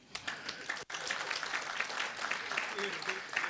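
Convention audience applause for a board member at an AGM, a soft spell of clapping that briefly drops out, then swells into steady, moderate clapping from many hands, with some voice mixed in.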